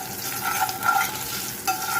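Curry leaves, asafoetida, green chili, salt and turmeric tossed in a hot frying pan, a close continuous sizzle with rhythmic scraping stirs and small clatters.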